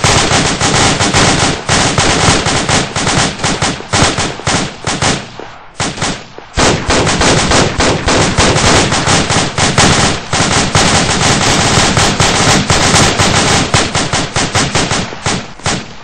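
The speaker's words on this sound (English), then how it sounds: "Getting in position, he will start shooting again" Sustained bursts of rapid gunfire crack close and loud during a tactical retreat drill, with dense overlapping shots and only brief pauses, no voices heard.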